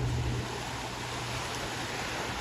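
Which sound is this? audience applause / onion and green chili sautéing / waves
waves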